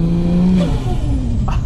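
Ford Falcon XR6 Turbo engine revving hard as the car accelerates on a quiet road, a loud, close, steady roar with a rising pitch through the gear and no talk over it.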